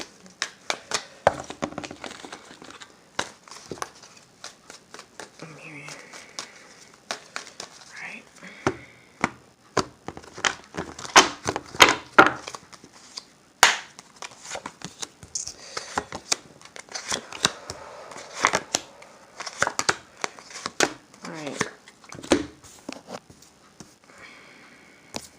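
Tarot cards are shuffled over and over up close, quick crisp riffles and flicks coming in irregular bursts, with soft talking in places.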